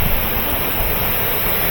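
A high-pressure rinse arch at an automatic car wash blasting water, a loud steady hissing roar that fills the whole moment without a break or any voices.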